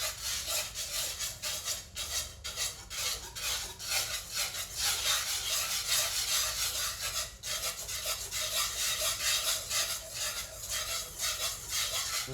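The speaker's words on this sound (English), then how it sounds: "I'm scraping it against the pan so I get all that cocoa up." Cocoa being scraped against a hot pan on a stove, giving a loud, continuous dry rasping and rubbing with steady back-and-forth strokes, close and alone.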